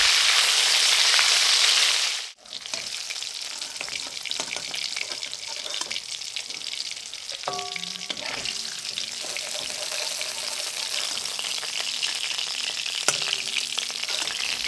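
Fish fries in oil over a medium flame, hissing with a steady, fairly quiet sizzle that runs unbroken after a brief opening burst, with faint clinks of a utensil turning the pieces now and then.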